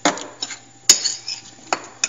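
Apples with lemon juice stirred in a bowl, a few sharp clinks and scrapes of a utensil against the bowl spaced irregularly, close and fairly clear with no talking.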